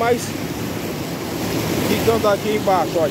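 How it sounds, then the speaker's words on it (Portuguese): Heavy rainwater flooding past during a harsh rainy season in the Ceará backcountry of Brazil, a loud continuous rush with wind buffeting the microphone, while someone talks over it. "Muita água passando por aqui."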